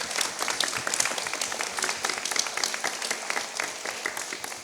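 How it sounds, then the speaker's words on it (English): Warm audience applause for artist Agnieszka Kurant at a talk event in Palazzo Diedo, a dense continuous patter of many clapping hands, fairly loud and even throughout with no speech. "Big round of applause for Agnieszka Kurant."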